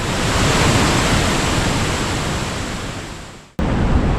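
Jiktang Falls on the Hantan River in Cheorwon, Gangwon Province, swollen after heavy rain, roars as a loud, constant broadband rush close by, briefly cut off near the end before resuming at full strength.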